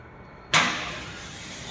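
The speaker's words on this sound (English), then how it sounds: "As the HST bursts, we'll hear a loud pop sound." A heat-sensitive fire suppression tube inside a closed panel bursts with one sudden, sharp, loud pop, followed by a rushing discharge that fades slowly.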